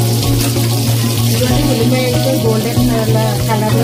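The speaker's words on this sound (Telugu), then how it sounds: "బాగా వేగుతుందండి ఉల్లిపాయ, ఇంకా కొంచెం బాగా వేగాలండి ఎర్రగాను." Sliced onion sizzles in a pan for a tamarind fish curry, a steady moist crackle under a low electrical hum, without any speech.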